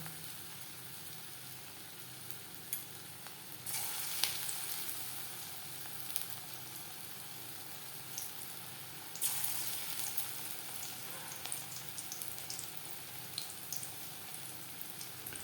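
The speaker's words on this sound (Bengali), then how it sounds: "পাকোড়া ভাজবার জন্য বেশ খানিকটা রিফাইন্ড অয়েল গরম করে নিয়েছি। এবার দিয়ে দেবো পাকোড়া।" Vegetable pakoras of onion and cabbage frying in hot refined oil, a steady close crackling sizzle that swells louder as more batter drops in around four and nine seconds, with no talking.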